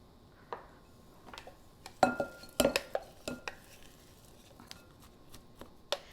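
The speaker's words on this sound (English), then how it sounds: "I'm going to transfer this into the mixing bowl" Roughly chopped black beans scraped into a mixing bowl, with a series of sharp utensil clinks and taps against the bowl amid quiet pauses.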